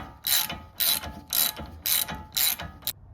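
A ratchet tightening a tie rod nut with a 13/16 socket on a 2007-13 Silverado, Sierra, Tahoe or Avalanche, five rapid clicking bursts in a steady rhythm, close up, with no talking.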